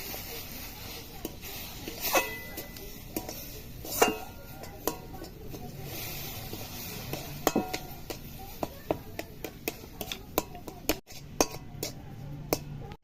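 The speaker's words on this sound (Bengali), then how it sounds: "অল্প অল্প করে দেবো আর নাড়বো।" A spoon scrapes and clinks against a pan while semolina cooked in oil is stirred as milk is added bit by bit, with irregular metallic taps over steady background noise.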